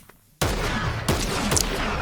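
Gunfire in the video game Fortnite, a sudden loud burst of rapid shots after a quiet moment, continuing as dense crackling fire with a couple of sharper hits.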